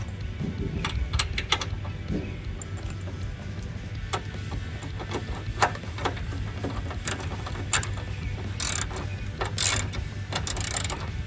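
Ratchet wrench snugging a 10mm bolt while mounting a light bar on a Ford F150 truck: steady close clicking ratchet strokes with metallic clanks, continuous and fairly loud, no talking.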